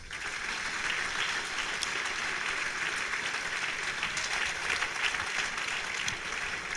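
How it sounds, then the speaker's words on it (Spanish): Church audience applauding the Lord at the close of a sermon, a steady, full wash of clapping from many hands that holds at an even level without talk. "Un aplauso al Señor"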